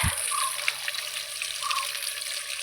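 Water running steadily from a tap while freshly picked flowers are washed, a continuous close hiss and splash with faint trickling, no talk.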